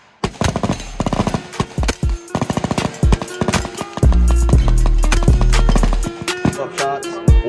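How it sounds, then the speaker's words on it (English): Rapid pistol shots from a handgun fitted with a Digitrigger that fires on both pull and release, loud close bursts in fast strings, then a long sustained roaring volley near the end. "mag dumps, hit your PR button. Shot on pull, shot on release."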